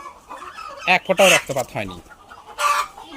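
A chicken clucks and squawks loudly and close up in a few short agitated bursts, with a final cry near the end, while its beak is being trimmed at home with a sharp knife.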